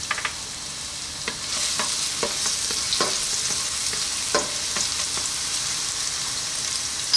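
Garlic sautés in hot oil in a pan for a pork sotanghon noodle soup, making a steady, close sizzle broken by scattered clicks and scrapes from stirring, with no voices.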